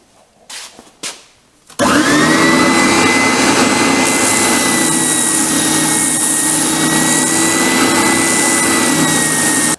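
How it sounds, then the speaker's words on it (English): Spindle sander spinning up and running loud and steady while wooden cutouts for a side table magazine rack are sanded, a droning whine after a few brief clunks at the start. "I'm just going to do them on the spindle sander"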